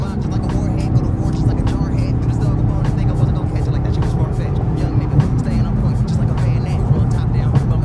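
Honda car driving through traffic at night, a steady loud engine hum with road noise and a passing vehicle, while someone talks over it.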